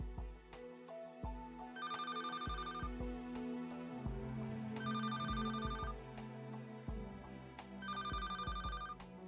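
A telephone rings in the video game Paper Lily, three clear electronic ring bursts repeating at steady intervals over a low game music bed, with no talking.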